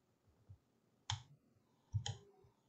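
A few quiet, close computer mouse clicks at an uneven pace in Rhino 7, with two sharper clicks standing out in near silence.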